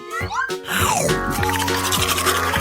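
A toothbrush scrubs teeth with foamy toothpaste during a kitchen challenge. Sliding, springy tones open the sound, then a steady, bristly scrubbing noise with a quick repeating rhythm runs loudly to the end.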